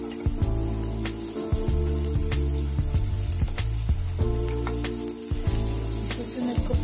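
Onion sautés in a little hot oil in a pan while a sweet and sour talakitok fish dish is cooked, with a close, steady crackling sizzle and scattered sharp pops.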